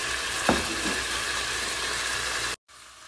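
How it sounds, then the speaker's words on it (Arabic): Onion slices dropped in beside frying shawarma-style meat give a brief louder burst, then a steady close sizzle and crackle that cuts off abruptly near the end, with no voices. "الان على جنب هنا راح اضيف شرايح البصل"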